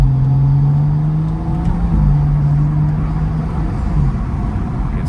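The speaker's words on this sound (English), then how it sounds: "I want you guys to hear the overrun brab" A BMW M235i engine drones on overrun while driving, a loud, steady low exhaust hum inside the car with faint crackle and road noise, no talk over it.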